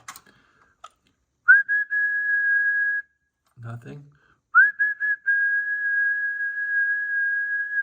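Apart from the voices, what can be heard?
person whistling into microphone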